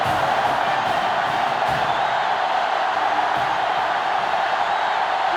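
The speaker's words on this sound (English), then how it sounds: "this crowd is going absolutely insane" A packed stadium crowd roars steadily during an Alabama vs Auburn game in NCAA Football 2005, a dense, continuous wall of cheering with no pauses.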